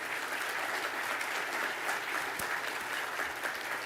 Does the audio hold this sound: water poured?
no